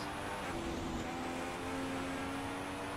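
Formula 1 race car from the F1 2016 video game leaving the pits on fresh tyres, a steady engine drone with a rising tonal whine, continuous and fairly loud throughout with no talk.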